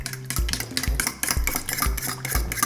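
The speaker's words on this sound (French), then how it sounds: "Voilà, de nouveau, on mélange." A spoon stirs a mixture of egg yolk and milk in a bowl, making rhythmic scraping and clinking strokes roughly every half second, close and steady.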